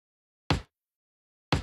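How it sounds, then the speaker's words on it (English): A clicky, fearless kick drum sample plays solo, striking twice about a second apart. Each hit is short and sharp, with a bright attack and a fast decay, and dead silence falls between the two hits. "what this kick is doing is just a specific kind of clicky thing"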